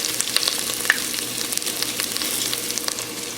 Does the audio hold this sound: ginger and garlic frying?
yes